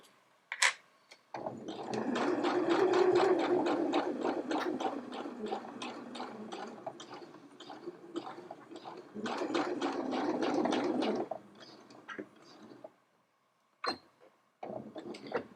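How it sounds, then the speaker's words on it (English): A sewing machine stitches a hoodie, finishing with a few back tacking stitches: two long runs of rapid needle rattle over a motor whir, close and clear, then short isolated clicks and pauses. "just a couple of stitches of back tacking at the end just to secure that"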